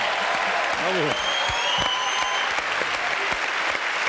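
A television studio audience applauds for an 80-year-old contestant, a continuous, dense wave of clapping with a few voices briefly rising above it.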